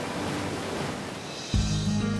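Ocean surf on a Maui beach, a broad wash of breaking waves heard from close by, steady for a moment and then interrupted by a sudden lower hum in the last second.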